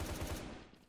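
Rapid gunfire from a SCAR rifle in the Vietnamese shooter game Truy Kích, a short burst of several close, punchy shots in quick rhythm that fades out at the end.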